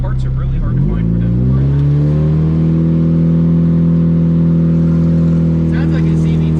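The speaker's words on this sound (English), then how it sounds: "Sounds like a CVT when I'm in third gear." A Chrysler PT Cruiser race car's engine drones steadily in third gear with a smooth, rising whine like a CVT, loud and continuous from inside the cabin, with someone talking over it.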